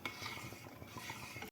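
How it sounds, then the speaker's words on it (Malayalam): A spoon stirring biscuit pudding mixture in a pan on the stove, with soft repeated scraping and clinking strokes, steady and close throughout, no talk. "ഇനി അത് ഇളക്കി കൊടുത്തുകൊണ്ടിരിക്കുക."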